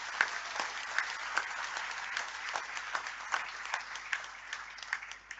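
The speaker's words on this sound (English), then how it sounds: "Let's have a round of applause for our honorable governor," An audience at a university convocation claps for the governor, a moderately distant, fairly quiet spread of individual claps with distinct sharp hand strikes standing out in an uneven rhythm throughout.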